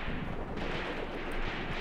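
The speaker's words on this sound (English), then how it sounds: "Look at that effective machine gun fire" Machine gun fire during a WW2 Eastern Front Croatian infantry attack, a steady rumbling wash of distant rapid shots and battle noise filling the short stretch at moderate loudness.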